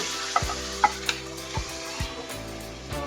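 Cooked beef goes into hot masala for a beef curry, a steady sizzle underneath several sharp knocks and scrapes of a spoon stirring in the pan, close up and with no talking.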